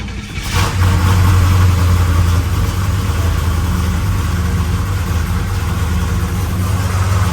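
A car engine runs loudly on a road test after sitting unstarted for weeks, a steady low rumble that surges briefly as it revs, with no talk over it.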